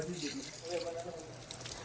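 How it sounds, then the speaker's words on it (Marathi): Water pours steadily from a tap left running at a temple, a constant hiss with voices talking over it. "नळ चालूच ठेवलं काकींनी"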